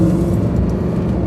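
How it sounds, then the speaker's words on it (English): A Lamborghini Huracan 580-2 with a V10 engine gives a loud, close, steady engine drone, short and unbroken, with no talk over it. "this V10 here has a very distinct sound, and I really, really like it."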